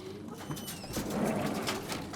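Racing pigeons in a Bradford loft give a few soft, throaty coos close by, with low rumbling calls under a faint background hiss and no talk.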